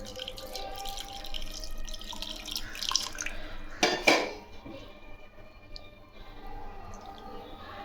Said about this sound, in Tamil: இப்போ நம்ம எடுத்து வச்ச தண்ணியை அதில் ஊற்றிக்கலாம்